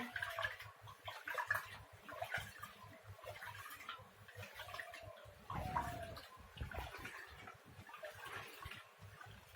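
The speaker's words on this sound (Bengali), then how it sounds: "চাইল আর মসুর এই যেভাবে আমি ধুয়ে পরিষ্কার করে নিচ্ছি" Rice and red lentils are rinsed by hand in a pot of water, making faint sloshing and splashing with quiet ticking clinks and a burst of pouring water partway through, and nobody speaks.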